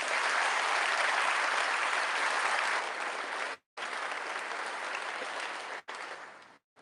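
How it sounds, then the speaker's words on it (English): Dense, steady applause fills a high school graduation ceremony, sustained by a large crowd before cutting off abruptly, then resuming and fading with brief gaps near the end. "you can hold your applause so they're all standing"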